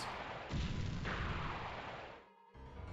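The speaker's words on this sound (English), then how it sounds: "we're about to hit it with some torpedoes" Torpedoes launch at an alien USO in the underwater game X-COM: Terror From the Deep, a heavy rumbling burst with a booming impact that swells, fades, then kicks back in, without talk.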